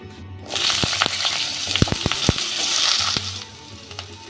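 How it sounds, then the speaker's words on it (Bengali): Hot oil sizzles loudly and steadily as thin potato strips are lightly fried, with a few sharp utensil clicks. The sizzle starts after a brief quiet moment and drops off near the end. "এই আলুটাকে ভেজে নেব"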